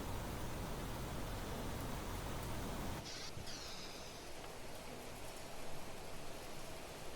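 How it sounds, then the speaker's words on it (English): Heavy rainstorm in the video game Planet Crafter, a dense, loud wash of rain noise that fills the whole clip and roars a little harder at first before settling to a steady downpour. "the rain is quite loud"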